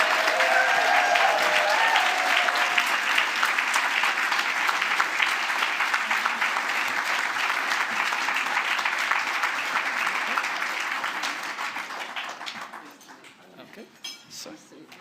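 Sustained audience applause at the Spirit of Manchester 2023 awards as nominees walk to the stage, dense crowd clapping holding loud for most of the stretch before thinning and fading out near the end.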